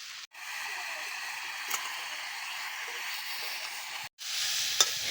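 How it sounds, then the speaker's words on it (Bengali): Vegetables stirred and fried with turmeric and salt for a light fish curry with ash gourd and drumsticks, giving a steady, soft sizzle throughout, with two brief silent gaps and a faint clink near the end. "কিছুক্ষণ নাড়াচাড়া করে এর মধ্যে দিয়ে দিচ্ছি পরিমাণ মতো হলুদ গুঁড়ো আর পরিমাণ মতো লবণ"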